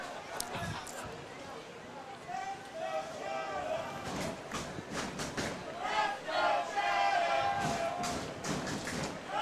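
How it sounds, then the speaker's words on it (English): Baseball crowd at Fergie Jenkins Field, Rotary Park, during a postseason game between the Chatham Barnstormers and Hamilton Cardinals, a steady hum of chatter and cheering with scattered shouts and thumps, moderately loud throughout, with voices in the crowd. "Good energy in the crowd tonight here at Fergie Jenkins Field,"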